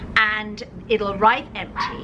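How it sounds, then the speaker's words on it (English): A pet dog barks in short bursts behind a person explaining a zero-waste laundry detergent refill, the yips and barks overlapping continuous talk at close range. "Sorry about my dog's barking."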